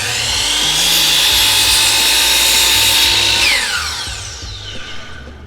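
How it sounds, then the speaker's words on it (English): A miter saw slowly cuts trim at a 45-degree miter with a loud, close, sustained whine that holds for about three and a half seconds, then winds down and fades. "Set your saw on a 45-degree out miter and slide your product in there like that and slowly cut."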